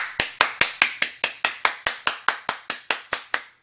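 Slow, steady hand claps, about fifteen evenly spaced sharp claps close up and alone, offered as applause for Platinum Games.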